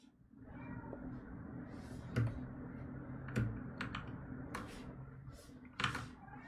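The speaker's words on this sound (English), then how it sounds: "Can you guys hear my cat?" A pet cat meows a few times in a room during a live drawing stream, heard as faint, brief cries mixed into steady nearby computer keyboard typing.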